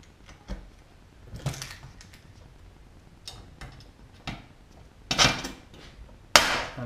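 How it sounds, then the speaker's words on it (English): Aluminium rivets being set in a Zigolo wing rib, a few sharp isolated taps and clicks spread irregularly, with two louder closer strikes near the end, in a quiet workshop. "and rivet it"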